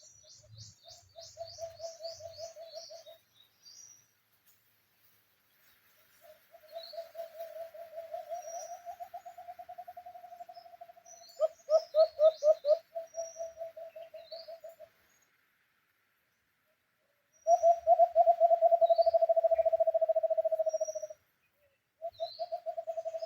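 Small birds calling from dense, overgrown grass in a rural Filipino setting: repeated fast trilling chirps in bursts, with a louder trill near the end, faint higher tweets around them, and no talking.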